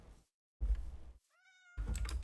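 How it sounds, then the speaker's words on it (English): A single short, clear cat meow sounds close by between bursts of thumping and keyboard-like clatter. "That's a cat."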